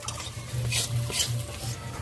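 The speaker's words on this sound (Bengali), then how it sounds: "দিয়ে দেবো পেঁয়াজ। দিয়ে একটু হালকা করে ভেজে নেব।" Onions frying lightly in oil in a pan for a river fish curry, a soft steady sizzle with gentle stirring scrapes, close and alone.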